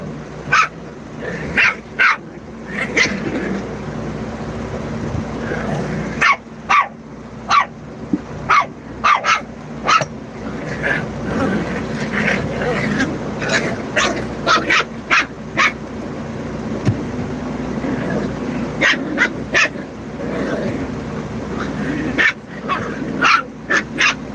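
A small yappy dog barks repeatedly in sharp, high bursts, some clustered and some spaced apart, mixed with whimpers and the odd growl, fairly close over a steady background.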